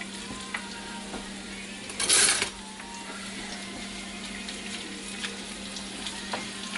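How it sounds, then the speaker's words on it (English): Chicken pieces sizzle steadily in a hot pan with a low continuous fry, broken by a brief louder rush as the pieces are tossed, plus occasional light clinks. "you just want to get it in the pan, get it a little golden, toss it around a little bit"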